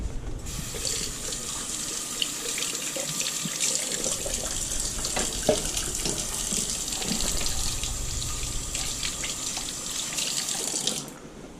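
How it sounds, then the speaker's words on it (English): A kitchen tap runs steadily as hands are washed during crème brûlée preparation, a continuous close hiss of water splashing into a sink, lasting about eleven seconds before cutting off. "Wash your hands real quick."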